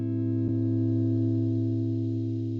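A sustained guitar chord through a BOSS GX-1 multi-effects processor rings out with a thick chorus and distortion shimmer after a single sharp pluck.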